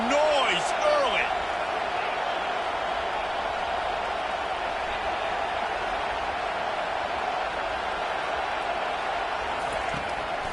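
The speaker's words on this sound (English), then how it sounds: "This crowd bringing the energy and noise early." Loud, steady roar of a stadium crowd at an Oregon vs Michigan football game, a dense wash of cheering and noise filling the whole stretch, with a few brief shouts near the start.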